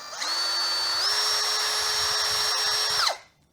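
A compact Hasston 16 V brushless cordless drill runs at speed 2, whining up to a steady high pitch. Its tone climbs once as the trigger goes deeper, holds for about two seconds, then winds down when released. No voices.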